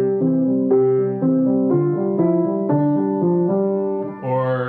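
Piano playing a simple repeating accompaniment pattern in classical style, steady even notes under a top-hand melody, clear and close with no talking.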